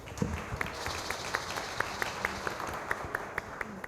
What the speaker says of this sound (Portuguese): Palmas para Nancupé.